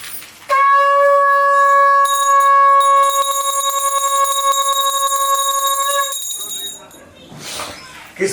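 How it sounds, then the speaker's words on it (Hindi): A bright, sustained metallic bell tone rings out during a Hindu Satyanarayan puja, holding steadily for several seconds with shimmering overtones before fading under background chatter. "घंटी बजाइए"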